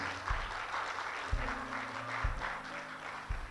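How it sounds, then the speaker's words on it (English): A church congregation at a Sunday service claps for the co-pastor, soft, steady group applause heard at a distance, with low dull thumps recurring underneath. "let's give our co-pastor a great hand clap"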